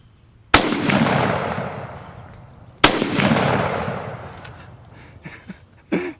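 A German G43 semi-automatic rifle fires two sharp, loud outdoor shots a couple of seconds apart, each followed by a long rolling echo, then faint handling noises.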